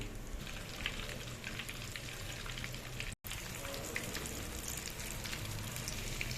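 Prawns fry in a pan with a steady, dense sizzle and crackle, close and even throughout apart from one brief dropout, with no voices.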